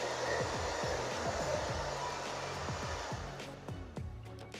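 A hair dryer blows steadily while drying an elderly woman's hair after a haircut, a loud continuous whoosh with faint intermittent clicks and shifts, easing slightly toward the end.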